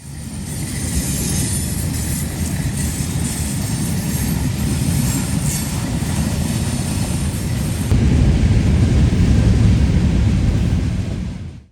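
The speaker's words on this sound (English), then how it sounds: "Midpoint of the train is NS 4049, a lone GE AC 44C6M rebuild converted from an old NS-9." A Norfolk Southern freight train rolls past loudly and continuously, with GE AC44C6M rebuild NS 4049 running mid-train. The dense rumble of wheels and engine shifts in tone near the end before cutting off abruptly. No one speaks.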